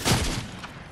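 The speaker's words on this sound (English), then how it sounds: "Who's shooting? That wasn't me." A single heavy gunshot burst rings out in a shooting video game, a loud broadband crack with a booming low tail that fades over a second.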